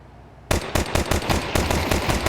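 Pistol fire rings out in a Counter-Strike match at IEM Dallas 2025, about ten loud, close shots in quick, even succession after a brief quiet start.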